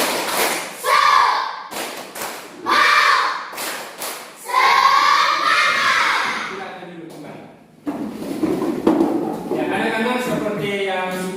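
A group of children claps in rhythmic bursts, several quick claps at a time, with their voices chanting along between the rounds.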